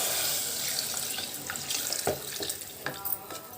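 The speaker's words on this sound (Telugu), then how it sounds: "వాటర్ ఒక ముక్కాల లీటర్ పోసుకుంటున్నానండి చూడండి" About three-quarters of a litre of water pours into a cooking pot for an Andhra-style ladies finger tamarind curry, a close, splashing trickle with a few brief knocks and clinks, no voice over it.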